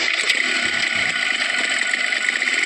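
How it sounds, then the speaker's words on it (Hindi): A motorcycle engine runs steadily as the bike turns toward an old ancestral mansion, a close, continuous mid-pitched hum and buzz with no voices. "पीयूष ने अपनी बाइक पुश्तैनी हवेली की तरफ मोड़ ली।"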